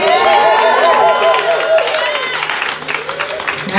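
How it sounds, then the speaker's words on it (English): A church congregation claps along in a loud, lively burst while strong voices ring out over the clapping, fading slightly toward the end. "Give them a hand clap, people"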